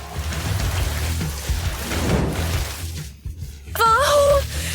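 Rain falls outdoors during a food challenge, a dense, steady hiss of drops that briefly thins and then returns, with a short whistling tone near the end.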